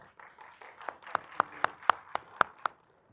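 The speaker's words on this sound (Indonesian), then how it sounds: "Tepuk tangan sekali lagi untuk" Small audience at a hospital heart health seminar in Jakarta giving a short burst of applause, a handful of distinct sharp claps in quick rhythm over soft scattered clapping, fading out at the end.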